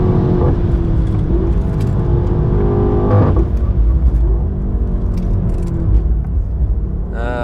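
A 700+ hp BMW M8 Competition accelerates hard at the Nürburgring, a loud close engine roar with rising tones through shifts and heavy rumble from inside the car, running continuously with no talking.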